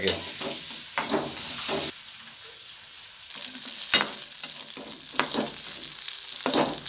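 Sliced onion and a tomato frying in oil in a pan for a fish curry, a close, continuous sizzle with crackling bursts and intermittent stirring scrapes, with no talk over it.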